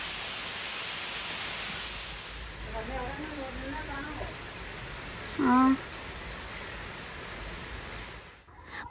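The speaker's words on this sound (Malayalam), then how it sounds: "കുറച്ചു നേരം ഞാൻ മഴ ആസ്വദിക്കട്ടെ" Steady rain hisses close by for several seconds, with a voice briefly humming and a short vocal sound partway through, then the rain cuts off.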